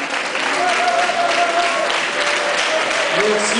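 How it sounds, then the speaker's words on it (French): Audience at a Rueda dance qualification event applauding the dance group Tropicana, a dense, steady round of clapping with some crowd voices mixed in. "On peut les applaudir."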